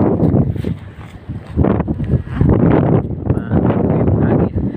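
Strong wind at the seashore buffets the microphone in rough, rumbling gusts that rise and fall without pause.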